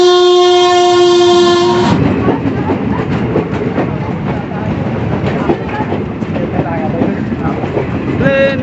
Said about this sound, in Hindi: ट्रेन आ गया